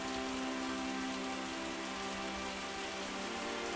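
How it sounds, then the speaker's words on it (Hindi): Steady, dense rain pours through the night, a continuous even hiss without breaks or voices. "पूरी रात बारिश होती रहती है"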